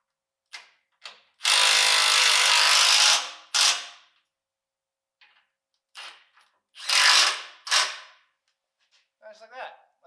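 Ratcheting wrench tightening bolts while a plow is mounted on a RAM 3500 pickup, heard as several close bursts of rapid clicking, with two longer runs and shorter strokes between quiet pauses.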